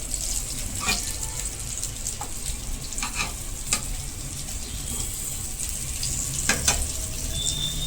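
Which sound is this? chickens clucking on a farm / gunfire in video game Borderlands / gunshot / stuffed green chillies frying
stuffed green chillies frying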